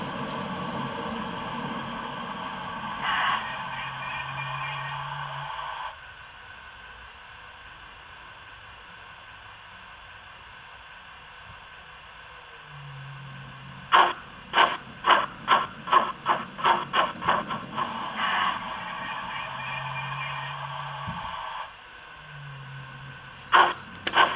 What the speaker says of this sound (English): We'll try the brake sounds.